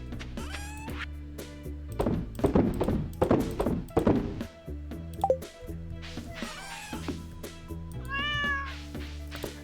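A cat meows several times, with a burst of louder bumping and thumping in the middle and a low steady hum underneath.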